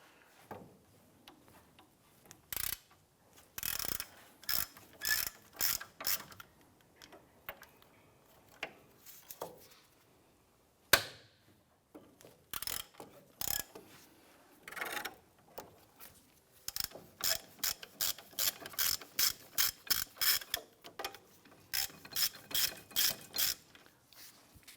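A ratchet works loose the 15mm bolts that hold the brake caliper bracket to the knuckle on a 2005-2007 Ford 500. Bursts of quick, close clicking come in separate runs with short quiet pauses between them.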